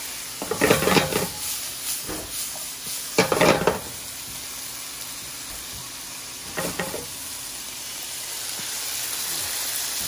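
Grenadier fillet searing in a hot pan with grapefruit butter, a constant sizzle and hiss broken by several short bursts of scraping and stirring, close and moderately loud, with no one speaking.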